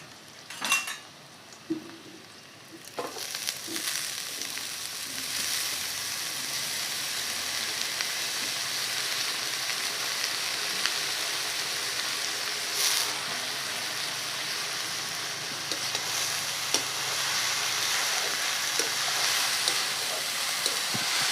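Finely chopped potatoes going into browned onions in a pan while cooking a Sundarbans mud crab curry: a few utensil clinks and knocks, then a steady frying sizzle that continues under occasional metal scrapes.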